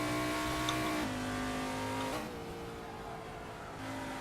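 A 1971 NASCAR stock car at Bristol Speedway in a sim-racing game drones loudly out of a corner, its engine pitch dropping at shifts then holding steady, with faint tire scrub beneath.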